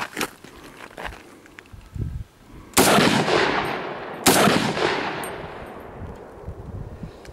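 Shots from an Ensio Firearms KAR-21 multicalibre .223/.308 rifle fired outdoors: two loud, close reports, each followed by a long decaying echo, with a few softer handling noises before them.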